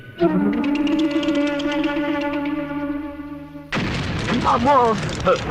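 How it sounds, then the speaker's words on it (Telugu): A dummy firecracker bomb in a comedy scene bursts with a sudden loud, broad boom partway through, cutting off a sustained tonal hum; a voice follows over the fading blast. "డమ్మీ పేలినప్పుడు ఇంత భయపడితే ఒరిజినల్ పేలినప్పుడు చచ్చిపోతాయేమో"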